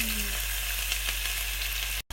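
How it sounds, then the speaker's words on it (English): Onions dropped into hot oil for a chicken curry, giving a steady, close sizzle and crackle with faint stirring, no talking. "And then I'm going to add my onions."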